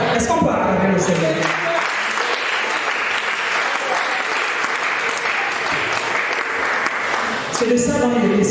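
Church congregation applauding the Lord in a steady, sustained burst of clapping lasting several seconds, with a preacher's voice speaking briefly at the start and end.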